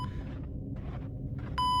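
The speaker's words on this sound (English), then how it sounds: "Beep." A steady electronic beep sounds in the video game Lifeless Planet. It comes in near the end over a low ambient hum and holds as a clear, loud tone.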